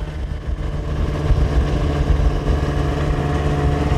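The engine of a vehicle running on skis over snowy trails in the Margeride hums steadily at close range, a continuous low drone with slight rises in loudness and no voices.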